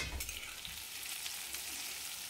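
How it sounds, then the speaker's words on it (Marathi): Stuffed bitter gourds fry in oil, a dense, quiet, continuous bubbling sizzle with small crackles, steady throughout. "आपण भरून घेतलेले सर्व कारले तेलामध्ये टाकून घ्यायचे"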